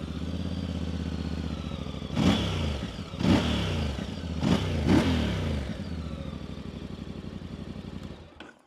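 A VOGE DS625X twin-cylinder adventure motorcycle engine rumbles steadily on the road, close and loud, with several brief throttle blips rising and falling before it fades near the end.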